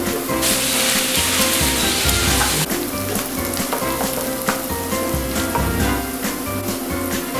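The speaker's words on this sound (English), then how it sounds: "Keep on stirring the onions till they turn golden brown." Onions frying in hot oil with a bay leaf, a loud, dense continuous sizzle with occasional stirring scrapes of the spoon against the pan throughout, no talking.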